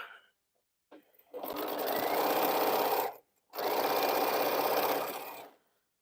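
A sewing machine stitches a T-shirt quilt in two steady, close bursts of rapid mechanical whirring, about two and two seconds long, separated by a short pause.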